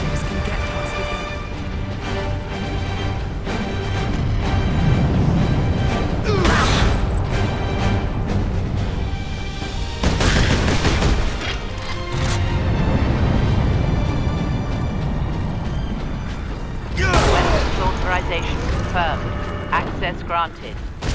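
An Ork gun battery in Warhammer 40k: Space Marine fires in heavy, booming blasts with crashing metallic impacts, several big bursts spaced a few seconds apart amid mechanical clanking and rumble.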